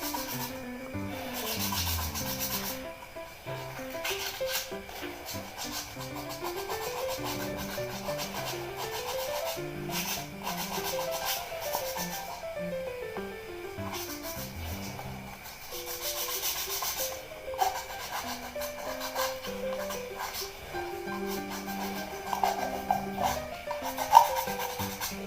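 Sandpaper rubbed against a cut bamboo cup in long, repeated back-and-forth strokes, a raspy scratching rhythm that continues steadily throughout at close range with no talking.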